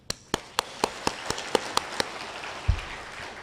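Members at a citizens' monitoring group launch ceremony in Busan give a sparse round of applause, about ten separate claps in a slow, even rhythm, fairly faint and with no one speaking.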